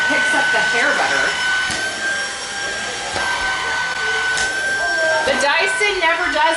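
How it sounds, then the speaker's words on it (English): A Pkwy A10 Hero cordless vacuum runs steadily over fabric couch cushions, a loud continuous whine with shifting suction tones and occasional thumps, while someone talks over it throughout. "this is the Pkwy A10 Hero vacuum"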